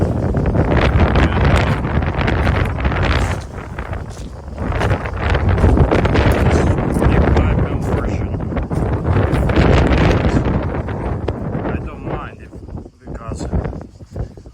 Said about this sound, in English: This morning is very windy.